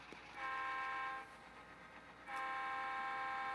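A GP9 model railroad locomotive sounds its horn in two sustained blasts, with a pause between them, over a low running hum on the layout track, close and fairly loud with no talking.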